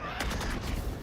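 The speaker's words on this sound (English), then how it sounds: "A lot of the gunfire exchange on either side here." Gunfire trades back and forth in a professional Valorant match between PRX and EDG, a dense, sustained crackle of overlapping shots with a few sharper cracks over about a second.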